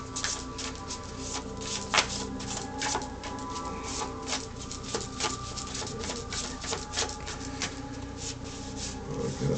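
A deck of cards being shuffled by hand, with a continuous crisp riffling and rubbing texture and scattered sharper snaps throughout, close and fairly quiet, with no talking.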